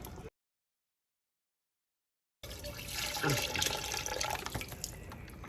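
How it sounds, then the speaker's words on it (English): Water and chicken broth poured into a pot of pork pozole, heard as a steady splashing liquid pour that starts after a brief silence and fills the rest of the moment, with no talking. "So now that the meat is done, you're going to add 2 cups of water, your chicken broth"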